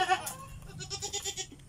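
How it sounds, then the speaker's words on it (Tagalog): Goats in their pen on a farm give several short, wavering bleats in a row, fairly close and moderately loud, over a soft background hum with no talking. "Bali yung mga alaga natin kambing."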